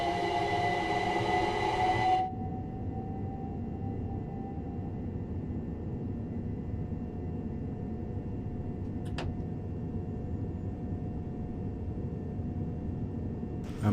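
Trains depart a London station in Train Sim World 4: a steady rumbling cab hum and rolling wheel noise after a brief louder burst at the start, with a sharp click partway through.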